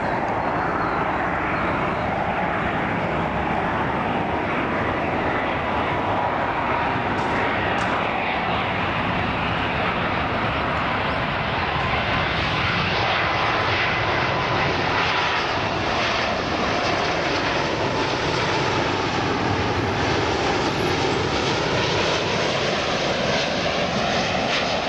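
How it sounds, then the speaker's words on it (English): El Al Boeing 777-200ER jet approaching runway 12 to land at Tel Aviv, a loud, continuous engine roar and rushing air that holds for the whole stretch, with no speech. "Boeing 777 Airlines approaching for landing runway 12."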